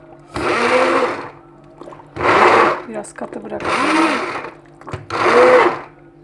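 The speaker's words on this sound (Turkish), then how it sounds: "Biraz blenderdan geçeceğim." A blender whirs through vegetable soup in four loud bursts of a few seconds each, pausing briefly between them, while a person says a few words.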